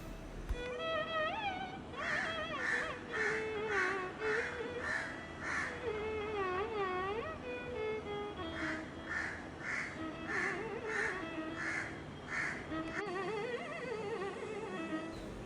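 Crows cawing in a bird-friendly backyard, a steady run of repeated harsh calls in regular bursts, fairly close, with other birds faintly behind and no talk.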